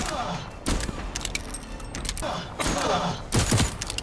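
Pistol shots in the video game Voidtrain, several sharp bursts scattered through the clip amid ongoing game noise and a talking voice, loudest near the end.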